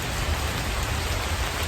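Heavy rain falls steadily during a thunderstorm, a dense, continuous hiss with low rumbling underneath and no pauses.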